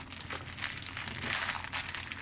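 Amazon package being torn open by hand, a steady crinkling and crunching of paper and plastic packaging close by, with no voices.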